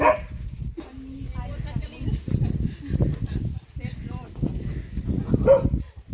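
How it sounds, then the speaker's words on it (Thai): A dog barks a few times in the distance while people talk nearby in a relaxed, conversational tone. "อาก็จะได้ยินเสียงมันเห่า"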